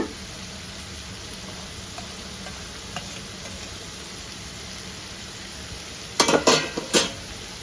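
Potatoes fry in a pan with onions and curry leaves added, a low steady sizzle with occasional faint ticks, then a short cluster of sharp utensil clatters near the end.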